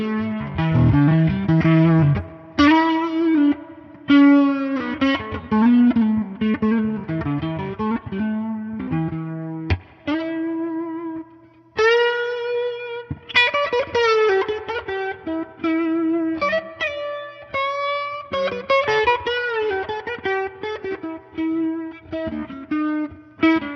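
Electric guitar played through a Boss RT-2 Rotary Ensemble pedal, with swirling rotary-speaker modulation and overdrive. Sustained chords and melodic single-note lines are played alone, loud and continuous, with short pauses between phrases.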